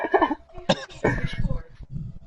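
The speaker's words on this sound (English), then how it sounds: "I said I started choking on my own spit" Someone coughs and sputters after choking on their own spit, a few rough throaty bursts mixed with strained, halting speech close to the mic.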